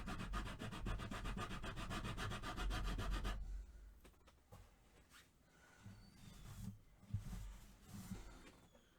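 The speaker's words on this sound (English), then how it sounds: "I can't get my Dremel down low enough, flat enough to do what I'm doing with this file" A hand file rasps across acoustic guitar wood during a right-to-left-hand conversion, with fast, rhythmic, close-up scraping strokes for about three seconds, then softer scattered scrapes and handling knocks.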